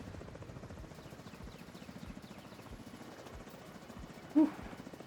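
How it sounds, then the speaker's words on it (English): A helicopter in a video game rotor-thumps steadily at middle distance, with a rapid rhythmic chop running under other faint game noise and a brief sharp sound near the end. "Alright, helicopter's coming in."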